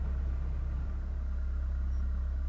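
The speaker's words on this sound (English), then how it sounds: "Can you hear the engine?" A steady low spaceship engine hum drones on evenly throughout, smooth and continuous with no voices or other sounds, in the video game Homeworld.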